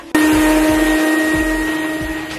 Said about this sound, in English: start vacuuming every little nook and cranny on the car